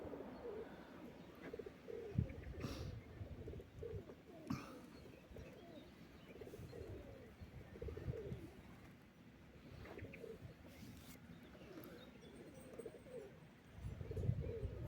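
Pigeons coo steadily in soft, repeated low throaty calls, several birds overlapping, with occasional wing flaps and light background noise.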